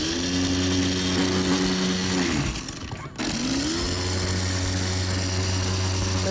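A food processor grinds garlic and walnuts for pesto, a loud steady motor whir that runs continuously, briefly drops out near the middle, then spins back up and keeps going.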